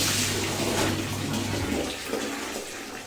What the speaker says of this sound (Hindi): मैं सबसे पहले धो रही हूँ कपड़े